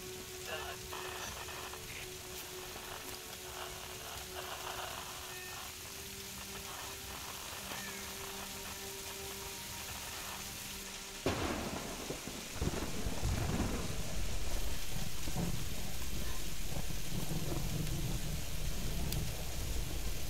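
Rain and thunder in the Tomb Raider video game: a steady rain hiss runs throughout, then a sharp thunderclap breaks in partway and the downpour swells louder and heavier afterward.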